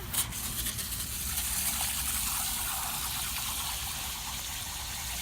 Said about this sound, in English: So Robert is rinsing it out.